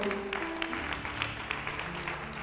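Scattered applause from a group, light and fairly soft, lasting a couple of seconds with a murmur of voices underneath.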